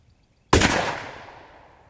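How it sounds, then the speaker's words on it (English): A single rifle shot fired at a target while sighting in, loud and sharp, with a long fading echo rolling away over open ground. "It's real important to make sure where you hit this very first shot."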